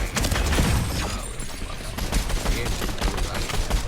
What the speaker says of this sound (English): Shotgun, don't mind me.